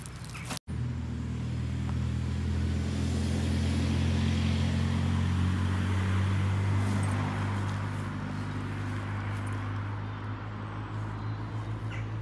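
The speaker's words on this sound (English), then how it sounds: "the car's coming round still" A car circles a busy roadside roundabout, its steady engine and tyre drone rising and holding loud before easing off, after one sharp knock near the start.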